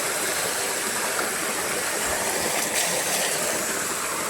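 Powerful rushing water flows into a fish pond, roaring steadily and loudly throughout, a dense unbroken churn close at hand.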